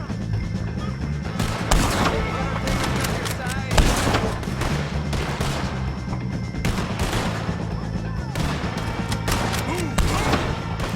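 Gunfire in a Red Dead Redemption 2 shootout against O'Driscoll gang members, with dense overlapping shots and thuds throughout, mixed under game music and shouted voices.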